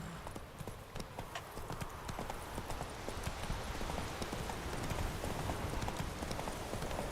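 The horse Roach trotting in the game Witcher 3: Wild Hunt, a continuous rhythmic clip-clop of hooves at moderate loudness over a soft ambient background.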